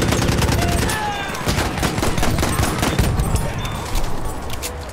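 Automatic fire from an MG 15 or BAR light machine gun in Battlefield 1, a loud, dense, continuous stream of rapid shots that never pauses across the whole stretch.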